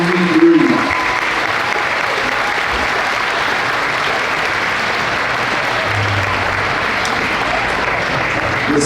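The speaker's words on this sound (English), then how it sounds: "can we all have one more round of applause and congratulate the class of 2023" Crowd at a school assembly gives a graduating class a long round of applause, dense steady clapping that continues at an even level throughout.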